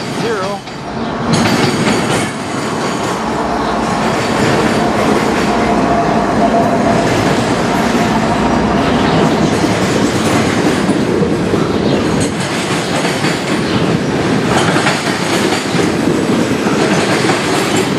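CN locomotives hauling a manifest train past Durand Station and over a diamond crossing, a loud, steady rumble of railcars with rhythmic wheel clatter and faint squeal throughout, very close.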